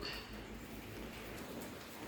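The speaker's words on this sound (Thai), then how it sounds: "มื่อนี้ฝนตก" Steady rain falling outdoors on a rainy day in Thailand, a continuous soft hiss with no breaks, faint and distant-sounding throughout.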